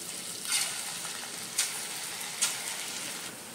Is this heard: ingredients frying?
yes